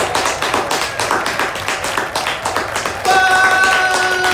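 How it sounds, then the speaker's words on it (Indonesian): Guests at a Balinese wedding clap for the bride and groom in a rhythmic, fairly loud pattern, then sustained tonal music enters and carries on over the last second. "Sekali lagi, beri tepuk tangan yang meriah untuk kedua mempelai kita."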